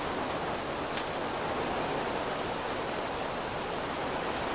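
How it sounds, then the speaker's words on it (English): A steady rain-like rush fills a room at night, a broad even hiss that holds constant throughout at moderate loudness with no voices. "It literally sounds like it's raining in my room."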